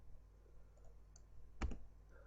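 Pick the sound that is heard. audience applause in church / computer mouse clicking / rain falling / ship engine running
computer mouse clicking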